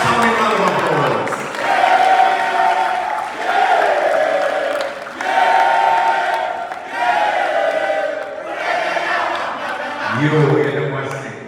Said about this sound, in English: and so many round of applause.